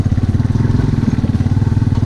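A motorcycle engine runs while riding on a mountain road in Mechuka, Arunachal Pradesh, giving a steady, loud, close throbbing drone with a fast pulsing rhythm throughout.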